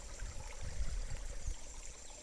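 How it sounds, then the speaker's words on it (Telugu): Rainwater from a heavy overnight downpour runs through a canal beside a paddy field, making a faint, steady rushing trickle with soft low rumbles and no voices. "చూడండి ఇక వాటర్ ఎలా పోతున్నాయో"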